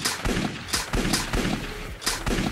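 Five rifle shots fired at an animal in theHunter: Call of the Wild, Hirschfelden, from a weak gun: loud, sharp reports spaced roughly half a second apart, each with a short echoing tail, no voices.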